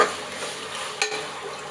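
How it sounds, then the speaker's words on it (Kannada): Tomatoes frying in a pan for chicken biryani, a soft steady sizzle close by with a brief stirring scrape near the middle, no voices. "ಇಲ್ಲಿ ಟೊಮೆಟೊ ಫ್ರೈ ಆಗ್ತಾಯಿದೆ."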